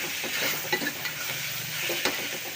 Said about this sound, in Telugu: బాగా ఫ్రై చేయండి